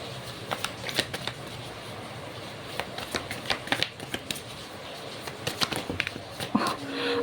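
Tarot cards being shuffled and handled, giving irregular papery flicks and soft riffling bursts at close range, with a faint low hum underneath.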